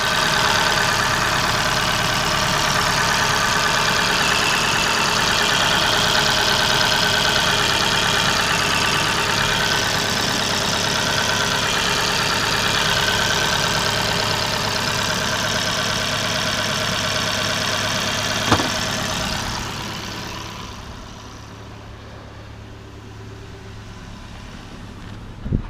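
A 2013 Dodge Dart engine idling after an oil-on-coils repair, a steady close rumble that runs alone for most of the stretch, with a brief click near the end before the sound drops quieter.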